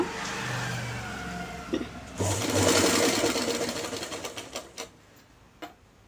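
A sewing machine stitches the crotch cross seam of a pair of trousers, whirring in quick close bursts that speed up, pause briefly and then carry on more unevenly, with no voices.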